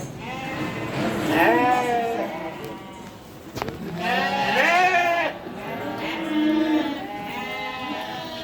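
Lambs at feeding time bleat loudly and repeatedly, several wavering cries in a row, close by with a faint background hum.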